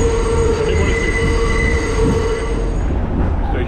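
A New York subway train at a station squeals on its wheels, a loud steady metallic screech with sustained high tones over a heavy rumble of the rail cars, with no talking.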